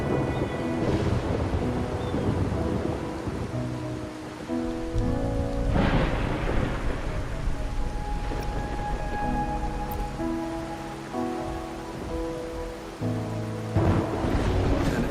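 Steady rain hisses throughout a Wuthering Waves game scene, broken by low thunder rumbles and swells, with tonal background music layered over it and no talking.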